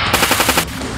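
Rapid automatic gunfire from a zombie shooter game, a dense burst of repeated shots at a steady rhythm for most of the second, then a brief quieter tail; no talking.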